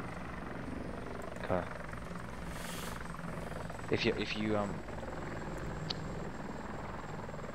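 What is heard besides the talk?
helicopter flying past in ArmA 2 video game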